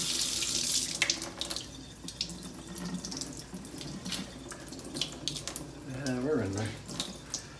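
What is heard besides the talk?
water running from a tap while sharpening a straight razor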